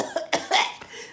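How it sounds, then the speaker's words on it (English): A few short, harsh coughs from one person, close and clear, in quick succession with brief pauses between them. "I need to cough first before I get the accent."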